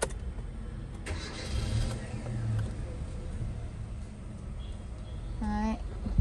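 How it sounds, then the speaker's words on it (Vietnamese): A 2012 Hyundai Avante automatic car's engine cranks and starts, then settles into a steady idle, heard close up with little talk. "em sẽ nổ máy cho các bác xem phần máy của nó nhé"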